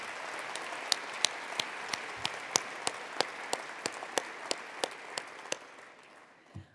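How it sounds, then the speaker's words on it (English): Audience at a college address applauds with a soft wash of clapping and distinct louder claps spaced through it, fading out near the end. "Let's give them a round of applause."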